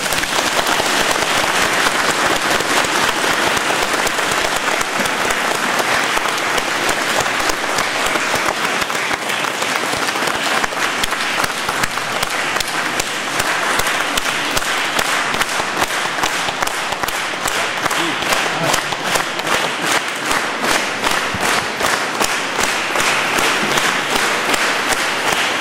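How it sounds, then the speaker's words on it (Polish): A church audience at a 2015 carol concert in St. Martin's church, Kłobuck, applauds the carol singers: dense, sustained clapping from a large crowd, even and unbroken for the whole stretch, with no speech over it. "Myślę, że należą się dla nich wielkie i ogromne brawa."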